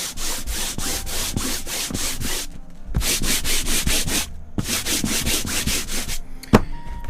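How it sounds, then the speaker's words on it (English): Repeated rhythmic strokes of 220 grit sandpaper rubbed across a painted canvas, steady back-and-forth scraping in three runs separated by brief pauses, close and prominent. "I'm going to use a 220 grit sandpaper."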